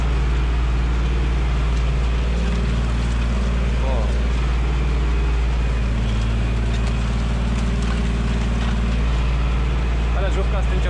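A 1950 John Deere tractor pulls a disc harrow uphill across a field, its steady low engine drone constant and close for the whole stretch, with someone talking now and then over it.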